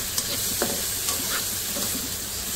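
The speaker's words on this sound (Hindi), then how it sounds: "अब हम इसमें डालेंगे 3 प्याज हैं जिनको मैंने चॉप किया, फाइन चॉप।" Finely chopped onions fry in a pan with a soft, steady sizzle and hiss, broken by a few faint stirring clicks and taps, with no talking.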